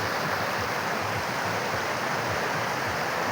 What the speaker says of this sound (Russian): Горная речка шумит.